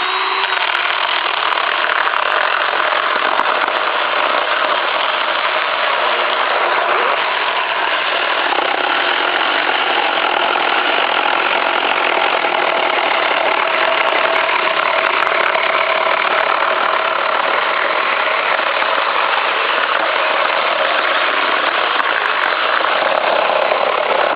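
A cordless saw cuts through an oak log about 140 mm in diameter, giving a loud, steady motor whine and cutting roar that runs unbroken for the whole stretch, with no talking.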